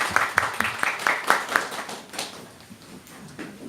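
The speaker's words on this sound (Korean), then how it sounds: "박수 한번 쳐주세요" A lecture audience claps. A few loud, distinct claps come first, then quieter, scattered clapping trails off. A voice is faintly audible underneath.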